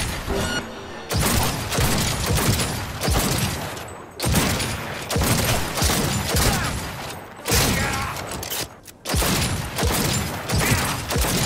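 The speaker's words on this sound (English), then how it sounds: "I want to test Keanu's gun" Keanu's gun firing in Cyberpunk 2077, loud heavy bursts of gunfire and booming impacts in long dense volleys, separated by brief pauses, with no talking.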